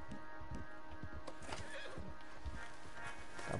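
A horse in the Red Dead Online video game neighs and whinnies while its hooves clip-clop in a steady rhythm close by.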